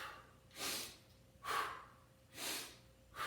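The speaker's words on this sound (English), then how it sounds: "Breathe in, out." Breathing during push-up exercise: four evenly spaced, forceful breaths in and out, each a broad airy rush, close to the listener over a quiet background.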